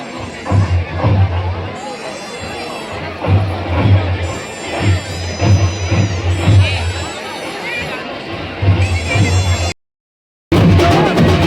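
A loud, dense crowd at the annual Bhagavati Devi temple festival in Ambrad fills the air with babble and shouts, with nearby voices talking over it and a brief drop to silence near the end.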